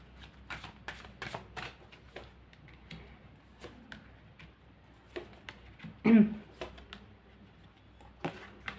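Oracle cards are shuffled in a quiet room, giving a run of crisp, close riffling and tapping bursts with short pauses between them, plus one louder knock partway through.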